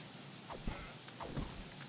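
Soft rain patters in the video game Craftopia, a faint steady hiss broken by a few low thumping rumbles of thunder, heard alone without voices.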